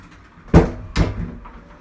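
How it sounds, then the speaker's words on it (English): A bathroom door in an apartment in Japan is shut, giving two sharp, close knocks about half a second apart that ring out briefly over a quiet room. "I'm gonna shut the door."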